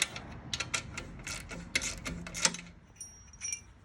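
A 13 mm wrench works loose the bolts on a Harley-Davidson motorcycle exhaust, giving a quick series of close metallic clicks, ratcheting and jingling taps over a few seconds with no talking.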